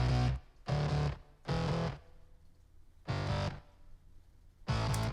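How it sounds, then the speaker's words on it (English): Short bursts of a gritty, distorted vocal riff with reverb that places it in a concert hall. Four or five loud phrases come in separate bursts, and each tail cuts off abruptly. "And then I brought in reverb because you hear it kind of cuts off"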